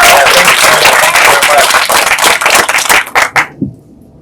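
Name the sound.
audience applause for a poet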